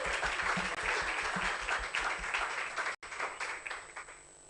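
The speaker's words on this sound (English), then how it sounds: "A round of applause." A round of audience applause at a diaspora forum, close individual claps within a dense burst that briefly cuts out, then resumes and gradually thins toward the end.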